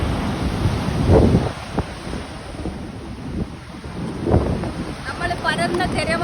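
Ocean waves break on the shore in two deep rumbling surges, with a steady wash and gusty wind noise on the microphone between them.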